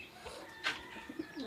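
Pigeons coo faintly at a backyard feeding spot where grain is scattered for birds, a soft brief call or two against quiet background noise.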